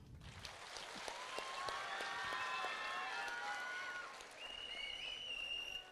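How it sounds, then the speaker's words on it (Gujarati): An audience applauds physics faculty teachers at an award event, with steady mid-level clapping filling the whole stretch over faint tonal music. "એ સિવાયના ફિઝિક્સ ફેકલ્ટીના બધા જ શિક્ષકોને આપણે તાળીઓથી વધાવી લો"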